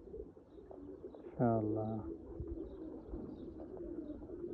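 Teddy pigeons cooing in a loft, with one clear, close, throaty coo standing out over low background murmur and a brief spoken word nearby.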